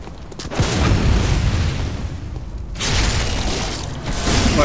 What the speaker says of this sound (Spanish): Hemos usado la escopeta